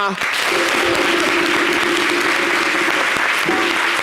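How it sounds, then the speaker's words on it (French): A studio audience at a television show applauds a young guest, steady full clapping throughout with a voice talking over it. "Est-ce qu'on peut applaudir Prada?"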